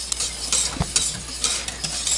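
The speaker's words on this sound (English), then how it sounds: "I prefer the hand whisk because I got more control in what I'm mixing and what speed." A hand whisk stirs béchamel sauce in a pot with a soft, continuous scraping swish and light tapping against the metal, close and quiet.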